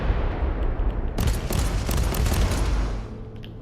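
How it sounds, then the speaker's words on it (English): Bombardment from Marauder bombers in a Warhammer 40k video game: a low, continuous rumble of explosions with several sharp blasts bunched in the middle, then fading toward the end. "The Marauder bombers are launching a second wave of bombardments."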